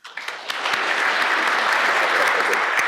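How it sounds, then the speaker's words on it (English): Audience applause breaking out at a 2018 UT McCombs business forecast event in Dallas, a few early claps quickly swelling into steady, loud, sustained clapping from a large crowd. "please join me in a round of applause"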